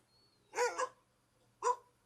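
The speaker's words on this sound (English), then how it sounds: "It's just a singular dog that we're listening to." A single dog barks twice, the first a doubled woof and the second a lone bark about a second later, clear and close against a quiet background.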